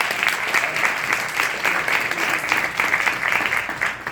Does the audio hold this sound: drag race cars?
no